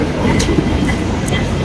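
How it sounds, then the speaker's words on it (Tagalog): An MRT train at a Manila rail station, giving a steady low rumble of rolling wheels and rail noise with faint higher clicks, continuous and fairly loud throughout. "So nandito ako ngayon sa MRT station sa Avenue."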